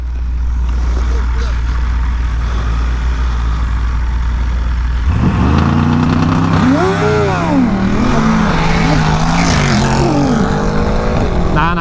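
A BMW S1000RR or Ducati Panigale V4S superbike on race fuel idles loud and close, then revs hard about halfway through, its engine note climbing and falling in sweeping pulls. A voice talks underneath.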